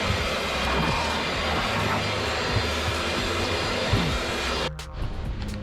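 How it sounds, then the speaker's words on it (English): A vacuum cleaner works inside a C5 Corvette with a seat removed, a loud, steady close-up whine and rush with slight pitch changes as the nozzle moves, shifting tone near the end. "I'm gonna go ahead and vacuum all of this out"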